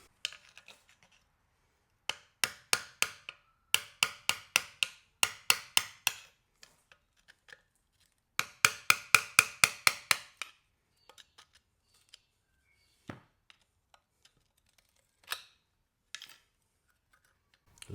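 Rapid metallic clicking and tapping comes from working the leftover pieces of a broken muffler out of a Mustang 20 two-stroke lawnmower engine block. The sharp, close taps arrive in quick clustered runs, with pauses and a few isolated clicks between them.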